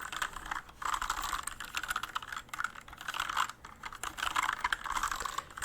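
Typing on a computer keyboard during a game of Wordle, close and quiet clusters of rapid key clicks in bursts with short pauses between them.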